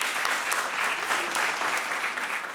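A school quiz audience applauds the Ancilla primary and junior high team after their first round, a dense, steady burst of clapping at moderate volume with no voices over it.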